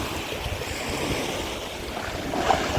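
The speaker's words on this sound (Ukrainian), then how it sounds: "Приїхали на море подивитися, як тут водичка, як тут пляжі." Black Sea surf washing onto the beach at Chornomorsk, a steady broadband roar of waves with wind buffeting the microphone throughout and a slightly louder swell near the end.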